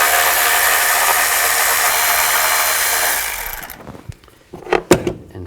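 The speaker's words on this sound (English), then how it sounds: "I'm going to use a 10mm socket, take these two bolts out." A power tool with a 10mm socket backs two bolts out of a plate on a 2000-2006 Chevy Tahoe. A loud, steady close-up whir runs for several seconds, then fades into a few sharp metallic clanks.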